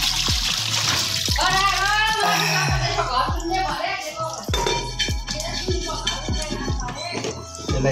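Tap water runs steadily into a sink while freshly cooked chicken is rinsed, with splashing and clinking underneath frequent talking, including a voice.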